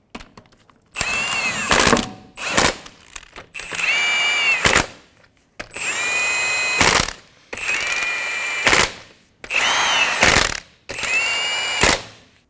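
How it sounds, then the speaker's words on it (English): A power tool snugs lug nuts onto a front wheel of a 2014-2018 Chevrolet Silverado, giving six loud whirring bursts of a second or two each, separated by short pauses and sharp ratcheting clicks. "Install all of the lug nuts. Snug the lug nuts down."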